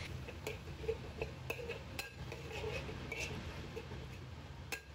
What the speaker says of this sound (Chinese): 把肉末翻炒至变色